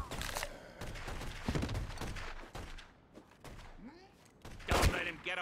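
Gunfire in The Godfather video game: a burst of sharp shots and thuds cracks out near the start, with further scattered shots and game noise mixed through the rest.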